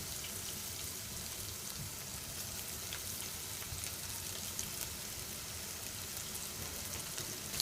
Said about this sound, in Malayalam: ഇവിടെ ഞാൻ ഈ ചിക്കൻ പീസസിനെ ഷാലോ ഫ്രൈ ചെയ്തെടുക്കുകയാണ് ചെയ്യുന്നത്.